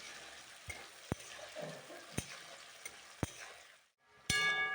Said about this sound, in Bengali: এবার এই পেঁয়াজটাকেও হালকাভাবে নাড়াচাড়া করেই গোল্ডেন ব্রাউন করে ভেজে নেব একটু সময় ধরে।